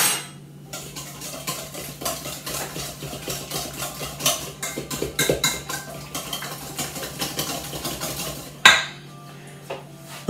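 Spoon stirring a sauce with lemon juice in a bowl, with scraping and clinking of utensil against the dish across the stretch, a sharper knock near the end, no talk.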